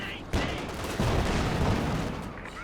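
Panzer IV tank cannon fire in Company of Heroes 2, a sharp blast followed by a second heavy report amid dense, rumbling battle noise and gunfire, loud and close.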